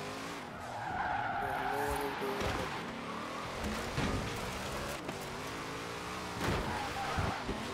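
A car drifts in Forza Horizon 4, its tires squealing in long wavering sweeps over a steady engine drone, with a few sharp rising skids. A voice talks over the driving.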